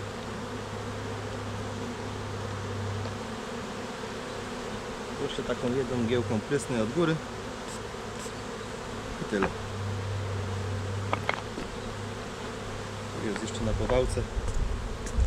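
Honey bees buzzing around a small nucleus hive, a continuous close hum under a man's speech, with short hissing spray bursts in between.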